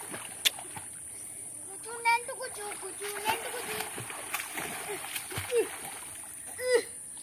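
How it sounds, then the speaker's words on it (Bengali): Boys bathing outdoors splash water in scattered, faint irregular splashes at a moderate distance, mixed with voices talking nearby. "দাদারা স্নান করছে"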